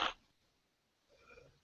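A sudden loud sneeze bursts out at the start of a quiet indoor moment, followed by near silence and then faint shuffling and murmuring noise.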